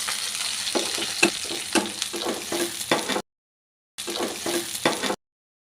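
Curry leaves are stirred into a frying ginger-garlic masala for chicken fry, giving close sizzling with rhythmic scraping strokes, broken by two abrupt silent gaps.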